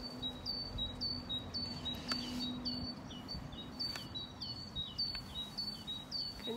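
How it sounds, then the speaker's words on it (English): Birds tweet and chirp in short, repeated high calls across a sunny morning beside a canal, fairly close and clear over a low steady background rumble. "just listen to the birds tweeting"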